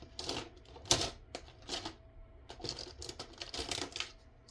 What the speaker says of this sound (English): I was going to cut it, but I don't need to when I can rip it